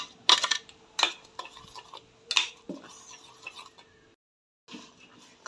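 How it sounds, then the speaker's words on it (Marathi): A utensil knocks and scrapes against a pot while mango pulp is stirred, a few distinct metallic clinks spaced about a second apart with softer scraping between, close and clear with no talk. "हे आपण पूर्ण गर पातेल्यात घालणार आहे आणि हे सतत हलवत राहायचे आपल्याला"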